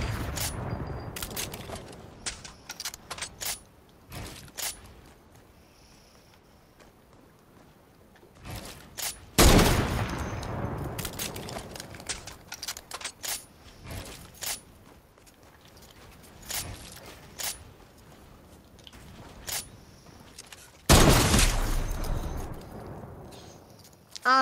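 Sniper rifle shots in Fortnite ring out as sharp, loud single cracks spaced several seconds apart, with quieter scattered gunfire, footsteps and game noise between them.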